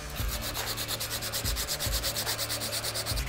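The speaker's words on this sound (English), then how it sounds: "Start breaking off these here corners, getting everything sanded up with just some sandpaper." Steady hand sanding of a forged steel hunting knife blade with sandpaper, a continuous rasping scrape with rhythmic back-and-forth strokes, close and fairly loud with no talking.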